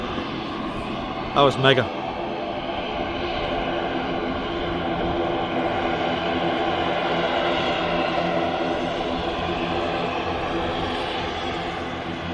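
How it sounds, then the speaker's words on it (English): An Aer Lingus ATR 72 turboprop at Manchester Airport drones steadily and close for the whole stretch, a continuous engine roar with a brief voice speaking near the start. "Aer Lingus ATR 72 heading back to Belfast Harbour Airport."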